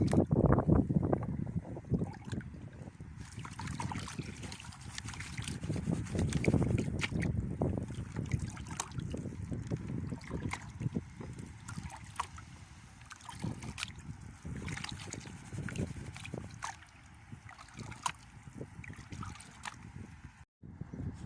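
Gold pan work in a stream in South Devon with a Garrett 14-inch pan: continuous sloshing and swirling water with gritty rock movement, close and steady, with some wind rumble.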